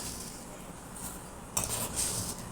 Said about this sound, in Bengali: আবার একটা পাত্রর মধ্যে ঘন দই ভালো করে ফেটিয়ে নিতে